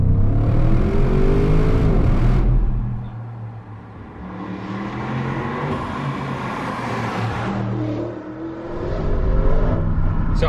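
An Audi RS 7 Sportback with a 4-litre twin-turbo V8 revs loudly and close, its note rising, then falling back to a quieter cruising drone before building again toward the end.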